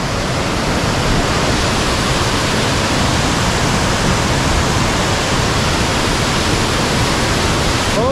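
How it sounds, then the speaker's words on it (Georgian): Rachkha waterfall roars nearby, a loud, dense and unbroken wash of rushing water with no other sounds over it. "ამის დამხელა ბიჭო საიდან ამდენი წყალი"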